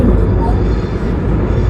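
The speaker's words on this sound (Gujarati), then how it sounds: "અહીંયા બહુ અવર જવર હો અહીંયા પ્લેનની" An airplane flies overhead in London, a steady broadband roar with low rumble lasting throughout as people talk nearby.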